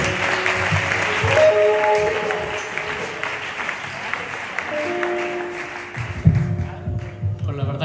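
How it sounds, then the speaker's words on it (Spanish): A church congregation applauds during a service after baptisms, sustained clapping from a crowd in a large room, with a voice speaking over it. "Un aplauso para Dios."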